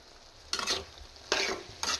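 Brinjal and dried fish kuzhambu sautéing on a low simmer, three separate bursts of spatula scraping over a quiet sizzle, with no voices.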